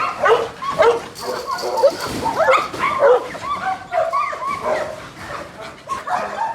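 Bandogs and American pit bull terriers barking, yipping and whimpering in the pens of a kennel compound, a busy overlapping chorus of near and farther dogs mixed with talking.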